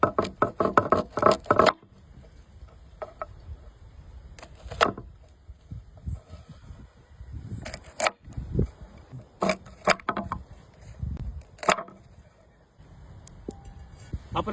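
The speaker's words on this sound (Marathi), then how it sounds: "आपण आता भाजीसाठी कारले कट करून घेऊ।" A knife cuts through bitter gourd on a board with sharp, close knocks: a quick run of chops at the start, then scattered single and paired strikes with short pauses between.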